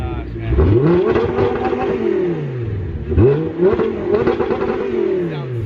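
An Audi R8 V10 fitted with an Armytrix titanium exhaust revs hard up close in two long, rising-and-falling bursts, with voices talking over the engine.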